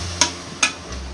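A spoon stirs fried onions with blended tomato paste in a pan, two quick scraping taps over a faint steady sizzle, close, with no talk.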